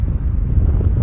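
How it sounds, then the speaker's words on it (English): Strong wind buffets the microphone outdoors at Amsterdam Schiphol Airport, a loud, steady low rumble filling the whole moment with no other sound standing out. "there's a lot of wind blowing"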